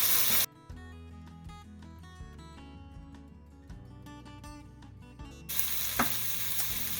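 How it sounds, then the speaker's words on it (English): Minced garlic frying in a pan for roasted pumpkin soup makes a loud, close sizzle, heard briefly at the start and again over the last seconds, while music fills the middle stretch. "Next we are going to add our minced garlic. I'll let the garlic cook for about a minute."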